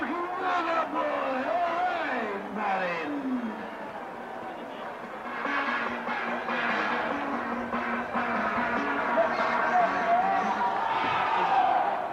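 Rugby league crowd at a Keighley versus Swinton match roars and cheers in rising waves beneath a commentator's excited talk, loud and continuous throughout.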